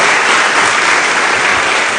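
Church congregation applauding during a sermon, a loud, dense, continuous roar of clapping close to the microphone with no gaps.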